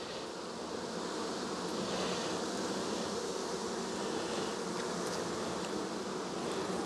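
Honey bees buzz at a hive box in a dense, continuous drone, loud and close, with an unbroken steady hum and no voices.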